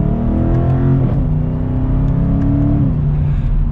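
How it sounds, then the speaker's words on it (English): A 2022 BMW M850i xDrive Gran Coupe in Sport Plus mode accelerates from second gear at about half throttle. The engine note climbs steadily and loudly through two quick upshifts, heard up close with no talking. "we'll give it another acceleration here from 2nd gear,"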